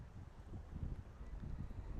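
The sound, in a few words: wind at Stonehenge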